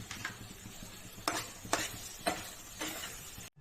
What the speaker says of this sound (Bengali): একটু হলুদ আর স্বাদ মতো চিনি দিয়ে একটু নাড়িয়ে নেব।